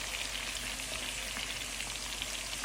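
Chicken pieces for chicken tandoori fry in hot oil, a steady dense sizzle and crackle close up, continuous and even with no voices.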